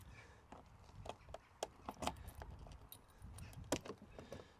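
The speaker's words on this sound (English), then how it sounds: "you use the Peugeot key" A Peugeot key turning in the lock of the fuel filler cap on a 2009 Auto-Sleepers Mezan motorhome, giving a series of close, faint metallic clicks, jangles and clacks scattered across a few seconds.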